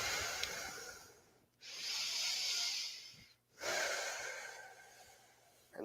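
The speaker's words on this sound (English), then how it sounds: "Take a breath." Slow, deep breathing during a yoga session after jiu jitsu: two long, hissing breaths close to the mic, each swelling and fading, with a brief near-silent pause between them.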